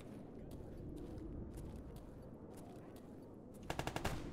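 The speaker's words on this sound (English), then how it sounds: "That's gunshots" After a stretch of quiet rumbling, a short burst of four or five rapid gunshots from the video game S.T.A.L.K.E.R. rings out near the end.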